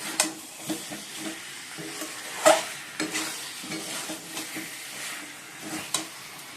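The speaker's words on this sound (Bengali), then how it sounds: "বন্ধুরা তেল তো গরম হয়ে গেছে, এই চিকেনটা অনেকক্ষণ আগেই ম্যারিনেট করে রেখেছিলাম।" Marinated chicken frying in hot oil in a home kitchen, stirred with a utensil: a steady low sizzle broken by a series of scraping stirs at irregular intervals, one louder clatter midway, no voices.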